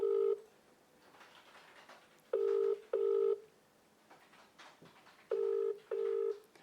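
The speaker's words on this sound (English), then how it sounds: "We know Mr. Beaumont doesn't answer his phone" A telephone call rings out unanswered during a live prize-draw broadcast, with a steady double-ring pattern of clear, loud electronic tone pairs repeating with quiet gaps between them and no talking.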